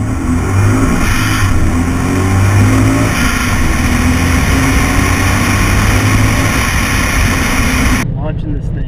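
A loud supercharged 2013 RTR Mustang engine, about 610 at the rear tires, roars steadily as the car launches with a clutch roll-off near 2,000 rpm and accelerates, sustained and close, cutting off abruptly near the end.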